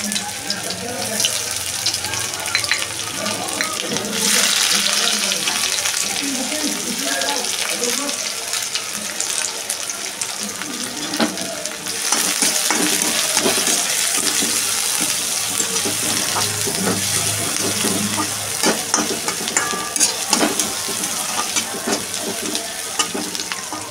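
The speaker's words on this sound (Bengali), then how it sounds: "পেঁয়াজ কুচিটা একটু সটে করে নিয়ে একটুখানি ভেজে নিয়ে" Chopped onion sautés in a pan with a loud, dense hiss that holds steady for the whole stretch. Bursts of stirring come and go over it, and there is no talking.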